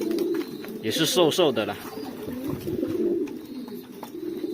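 Pigeons in a loft coo in low, steady murmurs close by, while someone talks over them.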